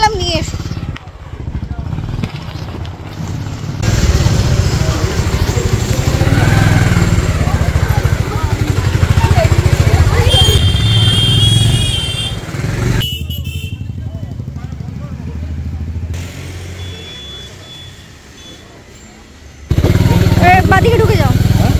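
A motorcycle arrives outside a house and its engine idles close by with a steady low rumble, while people talk over it throughout.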